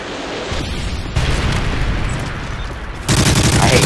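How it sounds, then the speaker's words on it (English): A Predator missile strike in Call of Duty: Modern Warfare 3 free-for-all multiplayer, heard as a loud, close, continuous rumbling blast with crackling debris. It surges after about a second and swells even louder into a dense roar near the end. "Friendly Predator missile inbound."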